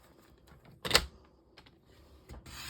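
A single sharp slice of a paper trimmer blade cuts through patterned paper. It is close and brief, with soft handling rustles before and after it.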